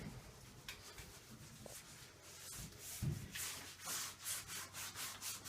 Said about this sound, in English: so I'm still scrubbing